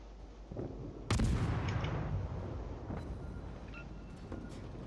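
A warship's main guns fire in the World of Warships naval game: one heavy, booming artillery blast that rolls and fades over a couple of seconds, with fainter distant shots around it and no talk.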